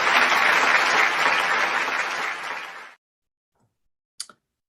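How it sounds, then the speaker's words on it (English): Audience applause welcoming Dr. Vishak Karbhari at a science, religion and philosophy parliament, a dense, loud round of clapping lasting about three seconds, then fading into silence with a couple of faint isolated clicks. "With big round of applause, let us welcome Dr."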